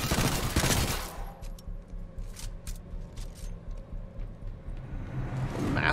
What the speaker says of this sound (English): Mastiff? Oh, it's that shotgun.